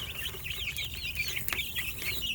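Rhode Island Red hens cluck and warble in a close, busy flock, their overlapping calls running continuously over a low farmyard rumble.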